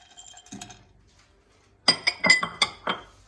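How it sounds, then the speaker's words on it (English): Pine nuts tumble into a pan with chopped onion and olive oil, giving a quick run of five or six bright clinking ticks, after a softer clatter earlier; near and clear, with no talking. "And the pine nuts,"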